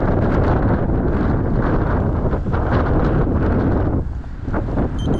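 Strong gusting wind roars across the microphone on a mild New Year's Eve hike, a loud continuous buffeting rush that eases briefly near the end, no voices.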